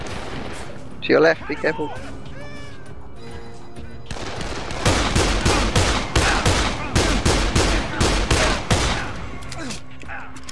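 Rapid bursts of gunfire in the zombie video game Dead Island, with dense repeated shots building into a loud, near fusillade after a few seconds of quieter game sounds, while players talk over it.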